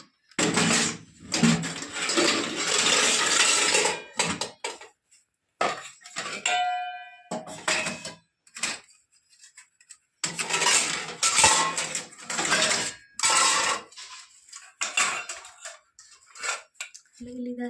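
Metal pots and dishes clatter and clink in bursts as they are carried off for washing in a rural village home, loud and close with brief pauses between rattles.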